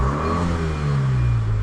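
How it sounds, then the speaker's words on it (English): A faulty Fiat 500L with warning lights on revs its engine, a loud, close, steady mid-pitched drone whose tone rises gradually, accompanied by a slight clatter. "and when I rev it,"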